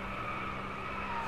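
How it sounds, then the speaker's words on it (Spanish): Continuous tyre squeal and engine drone from a car sliding under handbrake in the DriveClub racing game on a winding Chilean course, steady and loud for the whole moment with no voices. "Hay que tirar un poquito de freno de mano de vez en cuando"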